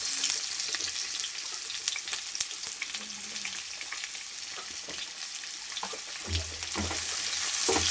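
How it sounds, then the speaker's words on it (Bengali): Two large chopped onions fry in a pan for an egg curry, giving a constant close sizzle and crackle with occasional scraping stirs, no voices. "পেঁয়াজটা একটু লাল লাল করে ভাজা হবে"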